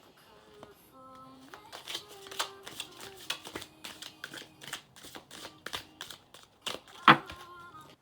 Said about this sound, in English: I just got this deck not that long ago, and I'll tell you, it shuffles so nicely.